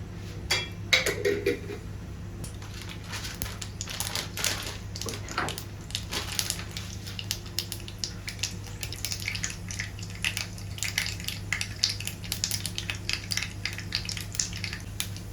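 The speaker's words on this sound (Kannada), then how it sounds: "ಈಗ ಸಾಸಿವೆ ಚೆನ್ನಾಗಿ ಹೊಡೆದಿದೆ" Mustard seeds crackle and pop in about three tablespoons of hot oil in a pan, a dense run of small sharp spits and ticks that keeps going throughout, close by and steady.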